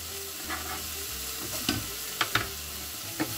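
Butternut squash stuffing with pine nuts browns in a pan, then garlic goes in. A soft, even sizzle runs throughout, with a few sharp stirring knocks toward the end. Fairly quiet, no speech.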